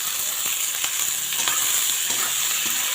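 Chopped, washed leafy greens are stir-fried in a pan, giving a close, steady sizzle broken by soft, repeated stirring scrapes, with no one speaking.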